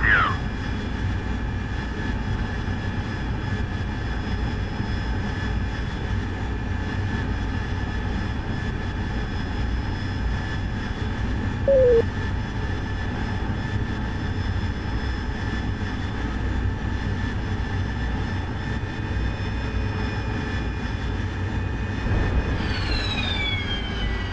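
A jet engine in the DCS World flight simulator drones steadily and loudly throughout, a sustained whine with tonal hum, shifting pitch briefly near the end as thrust changes.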